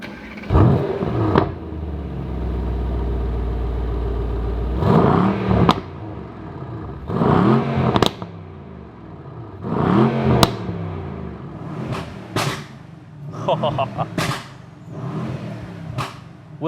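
A Mercedes-AMG S63 Cabriolet in Sport Plus mode is revved hard and repeatedly, with loud roaring bursts ending in sharp exhaust crackles and pops, alternating with idle between revs and nobody talking.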